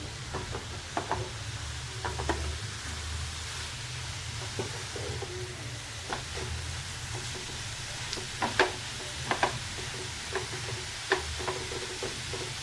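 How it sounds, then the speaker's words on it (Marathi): Grated carrot roasting in ghee for gajar halwa, a soft continuous sizzle with scattered scraping clicks of stirring, close and steady with no voices. "थोडं थोडं तुपामध्ये चांगलं परतून घ्यायचं आहे याला"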